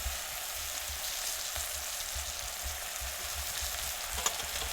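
Valor beans and brinjal frying in a pan with ground chili powder give a steady, even sizzle up close, with a few soft scrapes and no voices.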